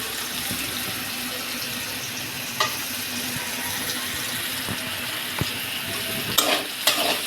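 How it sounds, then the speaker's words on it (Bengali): Potatoes, beans and green chillies fry in a pan with a soft continuous sizzle, broken by a few sharp clicks and scrapes of stirring, close by with no talk. "তার জন্য আলু, বিনস, কাঁচামরিচ ভেজে নিচ্ছি।"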